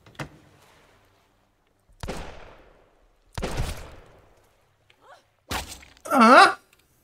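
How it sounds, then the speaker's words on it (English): Gunfire in the survival game Sunkenland: four separate sharp shots spaced a second or two apart, each with a short fading tail, followed by a brief groaning cry. "Oh, he's shooting from inside that."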